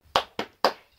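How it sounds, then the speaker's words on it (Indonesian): Three crisp hand claps in quick succession mark a short rhythmic cheer, loud and close with no other sound around them. "Kita tepuk semangat dulu yuk."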